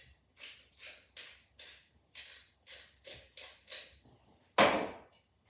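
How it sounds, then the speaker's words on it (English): Two beetroots being grated into a bowl, heard as a quiet series of about nine evenly spaced rasping strokes close by, each a short scratchy burst, ending with one louder scrape. "For that I'm going to grate 2 beetroots"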